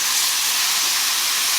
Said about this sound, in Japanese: 鍋肌醤油。